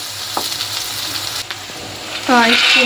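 Onions and green chillies fry in oil for Kalaburagi-style chivda, making a close, steady sizzle, with a voice joining near the end.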